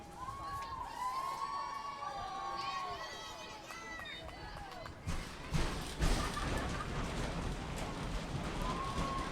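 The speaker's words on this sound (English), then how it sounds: "The stands are shaking here with all of the fans in the crowd" Softball fans in the stands at an Atlanta Smoke versus New York Rise game cheer and shout, with whistles and voices rising over the crowd and a few heavy stomping thumps midway, while people talk throughout.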